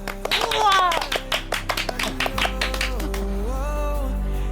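A small group of people clap hands in a brisk burst of close claps that soon fade, with voices speaking over and after them.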